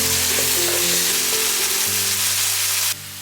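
Seasoned glutinous rice filling for siu mai stir-fried in a wok, a loud steady sizzle with a constant low hum beneath, cutting off near the end.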